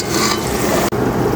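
Spiced curry masala with tomato and green chili sautéed in a pan before shrimp goes in, giving a loud, steady sizzle with stirring scrapes and a brief break near the end.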